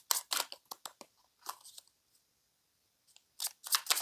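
Tarot cards being shuffled in short bursts of crisp riffling and snapping, with quiet pauses between, close and fairly soft.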